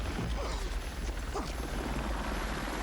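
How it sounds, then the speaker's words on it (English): A Eurocopter Tiger helicopter lifts off in a film scene: a steady, low rotor drone with faint mechanical whine and a few light clanks, heard at moderate volume. "Here's the helicopter taking off."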